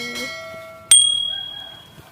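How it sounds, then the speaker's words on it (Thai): A bright notification bell dings once, sharp and loud, ringing out and slowly decaying after a short tonal chime at the start. "อย่าลืมกดกระดิ่งกุ้งกิ้งกุ้งกิ้งให้ด้วยนะครับ"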